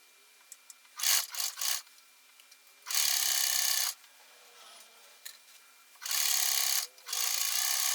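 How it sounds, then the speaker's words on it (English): A sewing machine stitching the seams of a 1950s-style slim skirt, running in short bursts then two longer runs of steady whirring, with quiet pauses and light fabric handling between them. "stitched along the edges of the flaps to close up the kick pleats"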